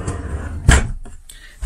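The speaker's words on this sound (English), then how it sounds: "So what I did instead was I converted it to a drawer." A plywood drawer in an Airstream trailer slides open with a short scraping thump, a single close, loud movement followed by a quieter rattle.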